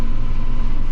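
A Krone Big M self-propelled mower drives through grass, giving a steady, loud engine drone with deep low rumble that holds constant and close throughout, with no talking.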